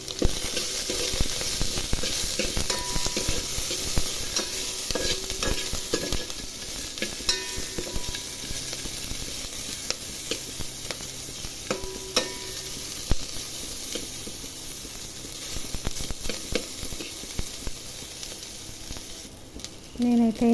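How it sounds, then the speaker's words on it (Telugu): Coriander leaves frying in a pan while being stirred: a steady close sizzle carries throughout, broken by repeated scraping and clinking strokes of a spoon against the pan, with no voices. "కొత్తిమీర, ఫ్రై అవ్వాలి కొంచెం."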